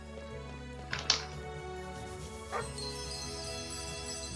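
A dog in the role-playing video game Chained Echoes gives a couple of short yips and barks over looping game music, one pair close together and another a moment later.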